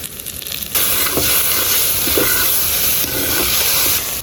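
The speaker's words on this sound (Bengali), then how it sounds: "এবার ঘি দিয়ে দিচ্ছি।" Ghee stirred into boiled raw papaya cooking in caramel for papaya naru sweets: a steady loud sizzle and hiss starts abruptly and continues, with faint scraping stirs underneath.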